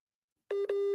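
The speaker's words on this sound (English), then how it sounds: "I think a call is probably coming into his phone." Phone call tone on a video call: a sudden, loud electronic tone cuts in from silence, pulsing in two or three short repeating beeps, clean and alone with no voices.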